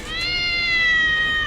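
A single drawn-out cat meow, close and clear with a steady, slightly falling pitch, lasting over a second with no talking over it.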